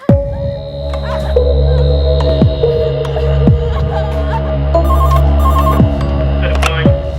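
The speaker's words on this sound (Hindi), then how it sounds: "पुलिस को फोन लगाओ।" A telephone rings on a call to a police station, a steady electronic ring tone repeating over a low droning hum, fairly close and alone without talk.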